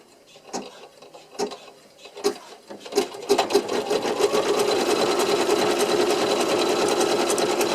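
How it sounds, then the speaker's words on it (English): A sewing machine stitches a zipper bag in place, starting with a few separate clacks before settling into a fast, steady mechanical rattle, close and loud with no talking. "I'm going to go ahead and stitch that in place."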